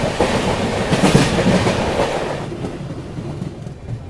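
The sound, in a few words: Azimabad Express train running on the tracks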